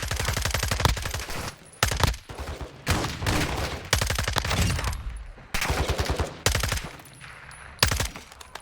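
Rapid automatic gunfire from a video game, DMZ, in repeated long bursts separated by brief pauses, loud and close with no talk over it.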